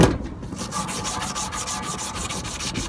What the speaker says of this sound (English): First, we're going to sand the shaft.